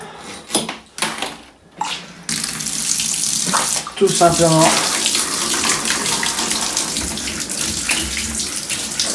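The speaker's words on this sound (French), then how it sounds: "Et une douche" A few clicks and knocks, then a steady hiss of water from a shower head spraying onto computer parts being cleaned, running continuously, with a brief spoken phrase near the start.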